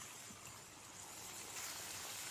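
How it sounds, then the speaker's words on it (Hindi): Water poured into a pan of peas fried with spices makes a steady, soft trickling splash that runs evenly throughout, quiet and unbroken. "हम इसमें थोड़ा सा पानी डाल देते हैं"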